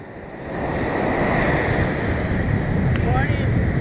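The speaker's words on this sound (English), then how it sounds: "definitely a lot of wave noise, which I kind of like" Ocean waves break on the shore at sunrise, a continuous broad washing roar that swells in after a quiet start, with wind buffeting the microphone.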